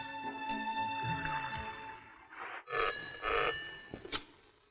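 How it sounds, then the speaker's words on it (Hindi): Telephone ringing indoors, a repeated electronic bell tone in bursts, fairly faint and heard alone without talk. "किसका फोन है? आनंद का।"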